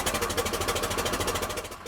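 Allis-Chalmers 2035E tractor engine running at a steady idle, a close, continuous low rumble with a fast, even pulsing rhythm and no voices.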